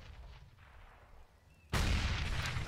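A grenade detonates in Counter-Strike on the Inferno map, a sudden heavy blast that breaks a fairly quiet stretch and leaves a loud, sustained rumble afterward.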